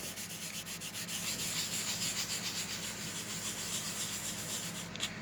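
A rag scrubs nicotine buildup off a wall with Gojo cleaner, giving steady, rhythmic rubbing strokes close and loud, with no voices.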